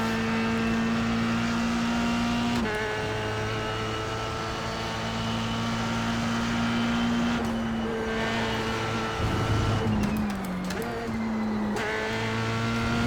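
A Formula 3 car engine, an NTMV7, roars at wide open throttle close up, a sustained high-revving drone that holds steady, with brief dips as the revs change mid-run.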